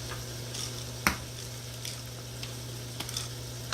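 Brown stew chicken sauce with ketchup simmers in a pot, a soft steady bubbling sizzle broken by a few sharp clicks and stirring knocks.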